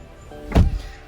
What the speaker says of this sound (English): I'm gonna close the door here